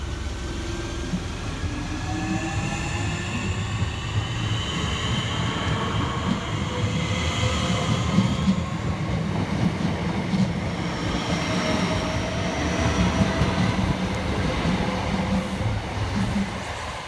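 Southeastern class 465 and 466 electric multiple units (465008, 465014, 466023) pass through a station on the Hayes line, a loud steady rumble of wheels on rail with whining motors and rising tones, continuous for the whole stretch.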